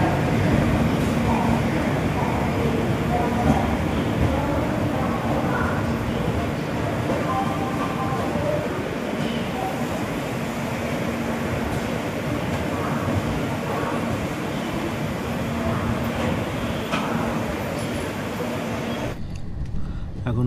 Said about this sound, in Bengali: আমাদের ট্রেন একদম সঠিক সময় কিন্তু ছেড়ে দিল